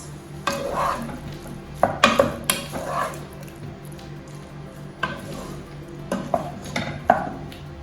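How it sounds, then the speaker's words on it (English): Curry leaves drop into hot oil in a pan, giving crackling sizzle bursts mixed with repeated clinks and scrapes of a utensil stirring against the pan. "Going in with my curry leaves now."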